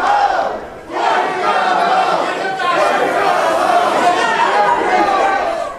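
Crowd of people yelling and clamoring at a governor's public appearance, a loud continuous roar of overlapping shouting voices with brief dips, sustained and close.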